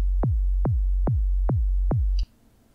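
A synthesized kick drum built in Serum with a pitch envelope repeats five times at an even pace. Each hit drops from a short higher thump into a deep, booming low tone over a constant sub-bass drone that cuts off abruptly. No voices.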